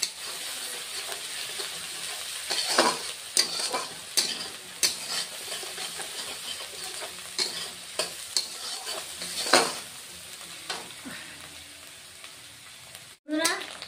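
Onion fries in a kadai for a fish curry with cauliflower and potato, a continuous close sizzle broken by repeated scraping stirs and utensil clicks, moderately loud, with a voice speaking briefly over it.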